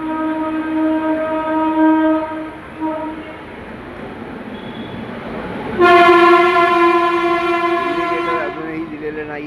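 A local train stands at Badlapur station while a loud horn blares in sustained tones, first one held note, then a brighter, louder blast joining in partway through, over platform background noise.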